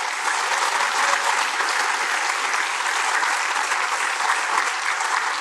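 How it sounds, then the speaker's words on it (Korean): Steady applause from a church congregation at a Christmas service, dense clapping sustained evenly throughout with no speech over it. "다시 한번 박수하겠습니다."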